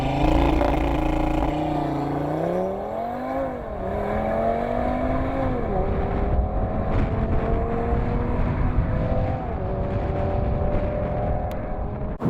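A 2017 Audi RS3 Sedan driving, its engine note steady then rising and falling through several gear changes, heard continuously from inside or near the car with no talk.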